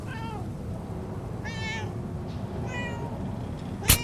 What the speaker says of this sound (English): Hi, cat. Meow.